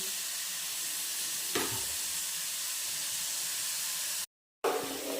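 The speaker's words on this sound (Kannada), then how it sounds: "ಇವಾಗ ಈರುಳ್ಳಿ ಚೆನ್ನಾಗಿ ಫ್ರೈ ಆಗಿದೆ" Onions frying in a pan for a masala dish, a dense, steady sizzle close to the mic, with a brief stir clatter midway and a short silent gap near the end.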